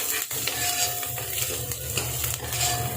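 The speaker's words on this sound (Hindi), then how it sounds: "तो चलिए प्याजों को भी फ्राई कर लेते हैं।" Onions fry in a pan with a low sizzle under repeated scraping and clinking of a spoon against the metal, a busy close stirring rhythm throughout.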